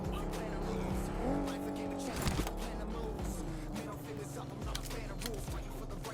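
Cars in the mobile battle-royale game PUBG Mobile drive fast with engine roar and sharp tire squeals, dense and continuous gameplay sound with faint voices underneath.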